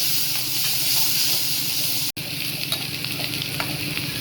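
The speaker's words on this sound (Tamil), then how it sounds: "சீரகம் பொரிஞ்சதும் வெங்காயமும் கருவேப்பிலையும் போட்டுக்கலாம்" Onions and curry leaves hit hot oil after cumin seeds in a pan for a potato kuzhambu, giving a steady, close sizzle and hiss with light stirring.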